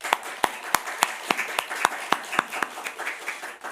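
Congregation clapping during a Sunday worship service at a Korean church, a run of sharp, fairly regular hand claps at moderate distance, thinning and fading toward the end.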